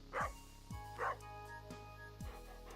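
Dog barking in a fishing video game, three or four short, close barks with brief pauses between them, heard alone over a faint low background tone.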